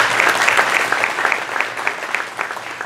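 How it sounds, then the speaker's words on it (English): Audience of football coaches and guests at a New Orleans area state championship event gives a short, steady burst of applause, a dense wash of clapping that holds level, with no talking over it. "Give him a round of applause for being with us one more time."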